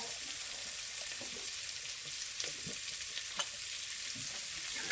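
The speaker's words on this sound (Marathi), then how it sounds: "कांदा तळून घेते आता। थोडा लाल करायचा कांदा।" Onion for egg biryani frying in a pan, a steady, even sizzle like light rain with faint occasional spoon scrapes, quiet and close with no voices.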